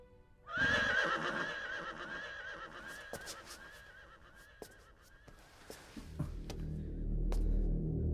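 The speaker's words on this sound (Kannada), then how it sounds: "ಕುದುರೆ" A horse neighs loudly in a long, wavering whinny that carries through most of the stretch, followed by scattered knocks and a rising low rumble near the end.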